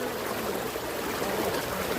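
Floodwater pouring from a village pond overflowing after torrential rain, a dense continuous rush of flowing water heard close and loud, with no voices.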